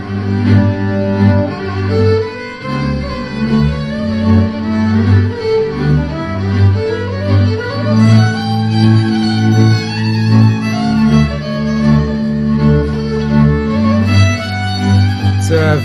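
A live band with violin plays continuously, captured on an iPhone set in front of the band, loud and close with dense sustained chords and rhythmic pulses throughout.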